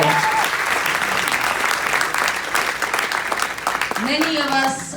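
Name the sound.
conference audience applause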